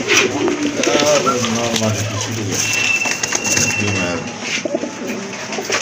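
Pigeons coo repeatedly at close range at a pigeon market, their low throaty calls running under conversation between people.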